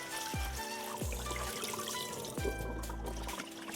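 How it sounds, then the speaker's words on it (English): Spinach leaves being washed in a bowl under a running tap, with a steady stream of water splashing and trickling close by and a few dull knocks of the bowl shifting. "wash them under running water"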